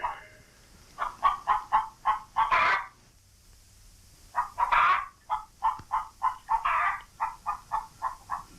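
A hen clucks in a quick run of short, evenly spaced calls, breaks off into a brief pause, then clucks again in a second steady series, fairly close with no talk.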